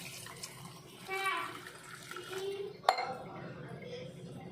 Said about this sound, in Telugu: కాస్త వాటర్ పోయాలి